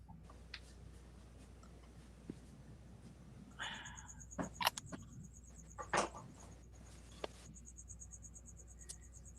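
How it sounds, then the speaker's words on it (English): Crickets chirp outside at night with a faint high-pitched trill that comes and goes, alongside a few soft clicks and ticks, distant and quiet against a low background hum. "I hear the crickets."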